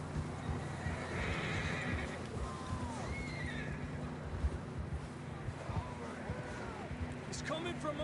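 Horses whinny a few times at moderate distance in Red Dead Redemption 2, over a steady rumbling ambience with clopping hooves.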